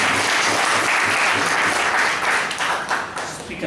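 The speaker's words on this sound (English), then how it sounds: "It's another round of applause." A room full of people gives a speaker a round of applause at a speech evaluation session, with dense, steady clapping that stays loud throughout and thins slightly toward the end.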